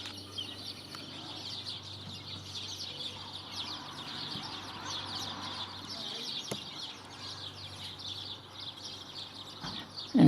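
Small birds chirping around a thrush and sparrows feeding on a front lawn in Lower Hutt, New Zealand, a busy continuous twittering at moderate distance over soft outdoor background noise.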